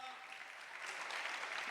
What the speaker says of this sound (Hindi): जोरदार तालियां उसके लिए।